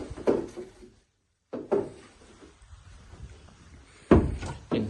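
A large wooden cupboard door in a house utility room opens and closes, giving three distinct thunks and knocks with quiet gaps between them and no talking.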